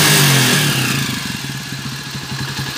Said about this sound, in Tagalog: May putok yung tambutso.